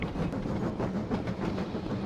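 A train runs in a car simulator video game, a steady rumbling roll with rhythmic clacking of wheels over rail joints, loud and continuous, no voices over it.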